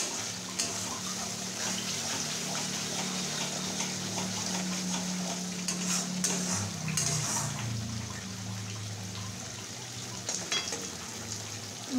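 Masala paste frying in oil in a pan for a Bengali doi mach fish curry, a steady close sizzle with occasional stirring scrapes running the whole time, no voices.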